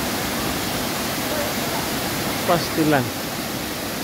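Twin Falls waterfall in Dimiao, Philippines: a steady, broad rushing roar of falling water throughout, with a person speaking briefly over it.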